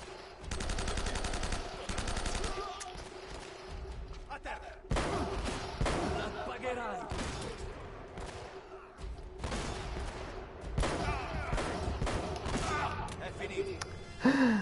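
Gunfire in the video game Uncharted: Drake's Fortune, long bursts of rapid automatic shots with short gaps between volleys, loud and close, mixed with game effects and brief vocal sounds.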